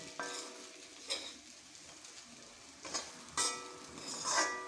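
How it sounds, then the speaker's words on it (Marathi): Stuffed okra (bharli bhendi) sizzles softly in a pan while a utensil scrapes and stirs in a few distinct strokes, quiet and close. "परतून घेऊया."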